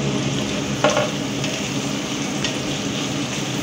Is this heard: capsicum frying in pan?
yes